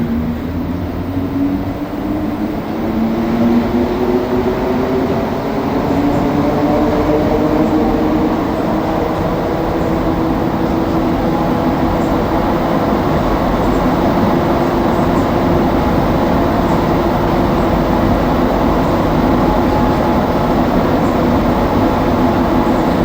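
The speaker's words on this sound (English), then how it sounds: "we're actually coming up on the 10-year anniversary of the AZUR trains, the MPM 10s, the ones that we're on right now" Montreal Metro AZUR MPM-10 train, Set 70, riding the Orange Line at midnight, heard from inside as a loud, steady rumble with rising and falling motor whine as it accelerates.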